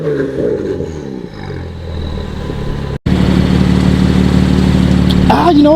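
BMW F80 M3 fitted with a Valvetronics exhaust revs loudly and close, first a steady engine drone that dips briefly, then a harder sustained rev with a deep raspy tone and a rising pitch at the end.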